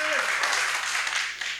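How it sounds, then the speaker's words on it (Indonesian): Steady applause from a stand-up comedy show audience fills the whole moment, dense and even, briefly overlapping a voice at the very start. "Ini dari tadi yang boleh minta tepuk tangan buat cewek-ceweknya."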